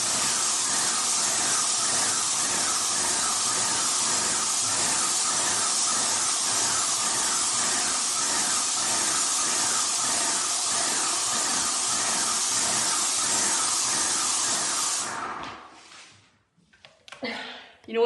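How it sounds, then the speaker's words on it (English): A paint spray gun on an extension pole sprays paint onto trim, ceilings and walls, giving a loud, steady airy hiss with a faint rhythmic pulse for about fifteen seconds before cutting off into a few quiet clicks. "I'm gonna be using the same spray gun, the same extension, so I don't have to get like on a ladder."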